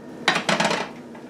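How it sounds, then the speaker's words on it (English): Chopped onions tumble into a frying pan, a short clattery scrape and thud of pieces hitting metal, two quick bursts close up before the kitchen goes quiet. "we'll put that in the frying pan right there"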